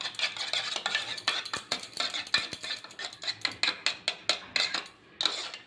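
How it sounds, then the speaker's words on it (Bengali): Two eggs beaten with a spoon in a bowl for a red amaranth greens and egg dish, giving a steady run of quick clinking strokes against the bowl, close and alone. "দুটো ডিম ফাটিয়ে নিয়েছি, এবার চামচ দিয়ে গুলে নেব।"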